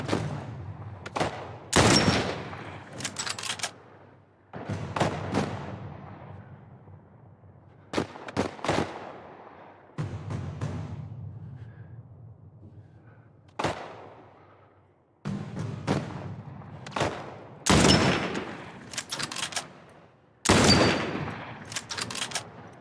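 Gunfire from The Last of Us Part I: repeated loud sharp shots in irregular bursts, some clustered in quick pairs, with short echoing tails and quieter ambient gaps between.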